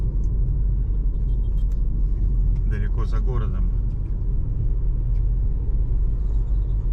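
A car drives along a road outside the city in Cambodia, giving a continuous low rumbling road and engine drone beneath someone speaking briefly midway.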